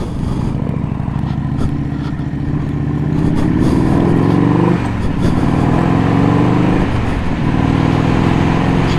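A 1984 Harley-Davidson FLT Tour Glide engine runs steadily while riding, a loud continuous rumble that rises with each gear pull and briefly drops at shifts before climbing again, with no talk over it.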